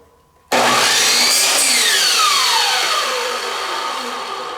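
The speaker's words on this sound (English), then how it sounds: "We're going to go ahead and move over to the miter saw and show you how it works over there as well." A miter saw cuts through a piece of wood held down with a hold-down stick, starting abruptly with a loud whine that sweeps and descends as the blade bites and spins down, steady and close with no talking.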